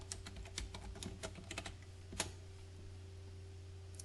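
Fingers type a search term on a computer keyboard, a quick run of close, crisp key clicks in the first half that thins to scattered taps and then stops, over a steady low hum.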